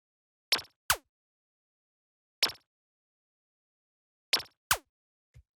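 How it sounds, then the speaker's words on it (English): Short minimal house synth zaps from a saw wave built in Operator, crisp clicky bursts with a quick downward pitch sweep, played in sparse pairs and singles, dry and isolated. "So these are the famous minimal zaps that you hear in a lot of these tracks"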